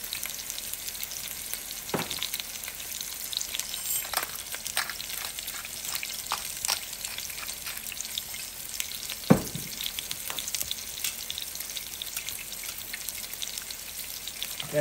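Sous vide food sears in a hot pan for crust, a steady crackling sizzle with scattered sharper pops and spits throughout.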